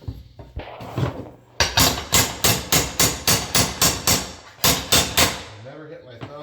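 A hammer strikes the padded side of a flooring puller while vinyl floor planks are installed, a run of about a dozen sharp, evenly spaced knocks, with brief talk before them.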